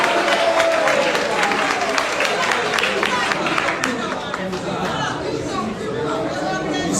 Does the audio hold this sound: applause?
yes